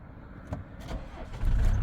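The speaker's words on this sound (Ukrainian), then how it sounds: "Автомобіль заводиться з півоборота, працює рівно стабільно справно" A Kia Carnival with 233,000 km on it starts quickly from inside the cabin, a short crank after a few clicks and then a low engine rumble rising near the end.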